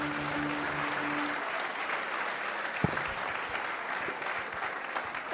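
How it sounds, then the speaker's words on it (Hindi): Loud, sustained applause from an audience at a CRPF event welcoming a performer named Rohan to the stage, dense clapping filling the whole stretch with a brief sharp knock near the middle. "प्लीज एक जोरदार ताली।"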